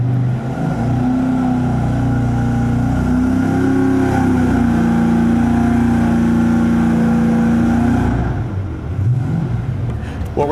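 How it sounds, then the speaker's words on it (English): A carbureted or EFI V8 test engine idles fast and steady right after a cold start, a loud continuous rumble with a constant low hum that drops away near the end. "What we're doing right now is looking at how the idle speed is really fast, and that might just be because it's cold"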